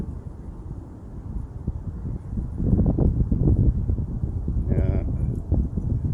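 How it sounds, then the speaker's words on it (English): Wind gusts buffet a DJI Avata FPV drone, producing a rough, blustery low rumble that swells louder midway and stays heavy to the end, with a brief tonal whine near the close. "all of a sudden the wind gust will grab it and just heave it"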